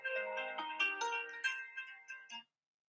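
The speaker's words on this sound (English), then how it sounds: "That's an alarm I have on my phone." A phone alarm goes off with a bright, rising melodic chime, a run of clear tonal notes lasting about two and a half seconds before cutting to silence, close and unaccompanied by voices.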